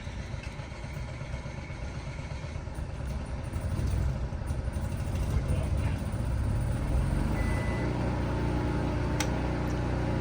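A small RV generator engine cranks and catches, then settles into a steady, loud droning rumble that continues throughout.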